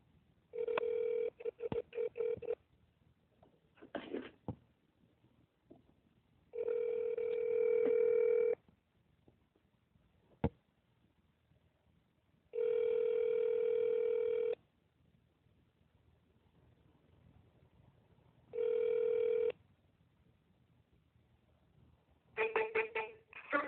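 Ringback tone of an outgoing telephone call, repeated even two-second buzzing bursts separated by pauses, heard through a speaker with faint background noise and some clicks.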